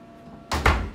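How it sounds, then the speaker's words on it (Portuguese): A hotel room door in Copacabana, Rio de Janeiro, swings shut with a short bang and a heavier thud right after it, loud and close against a quiet room. "Fecha a porta."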